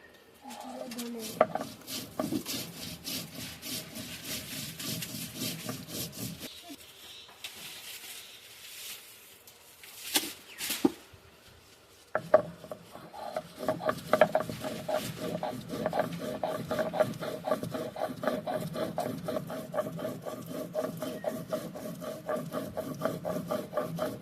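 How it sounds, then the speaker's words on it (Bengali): Cumin seeds being ground on a grinding stone give repeated rough rubbing and scraping strokes, close and moderately loud, with brief pauses between bursts. "এবার আমরা জিরেটা বেটে নেব"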